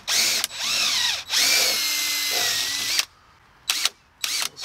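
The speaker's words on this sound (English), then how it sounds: "I'm just gonna switch over to the regular drill now" A cordless drill bores through a wooden deck post, its motor whining loudly and close in long sustained runs that dip under load, then short bursts and quick trigger pulls at the end.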